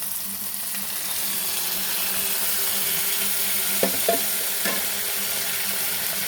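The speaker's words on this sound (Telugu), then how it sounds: "కట్ చేసుకుని టమాటా వేసుకోవాలండి." Tomatoes and brinjal frying together in a pan for an aloo brinjal curry give a steady, close sizzle throughout, with a few brief utensil knocks near the end.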